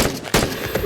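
Gunfire from a weapon in the VR game Into the Radius rings out loud and close, a dense burst of shots packed into under a second with heavy, booming reports.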